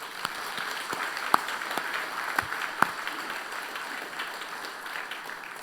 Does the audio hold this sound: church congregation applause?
yes